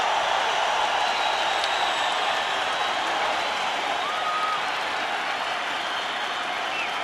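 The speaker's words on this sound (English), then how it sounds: "the entire crowd is on its feet in appreciation for what they saw in round 5" Boxing crowd applauding and cheering after round 5 of a fight: dense, sustained clapping and crowd roar filling the whole clip, loud and steady without letting up.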